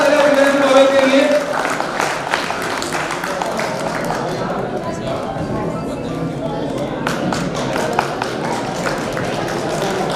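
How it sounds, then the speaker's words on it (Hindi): A crowd at a chess tournament prize ceremony claps for a second-place winner, a dense, steady patter of applause running throughout, with a voice speaking over the start. "जोरदार तालियां दिव्यांशु बाबे के लिए।"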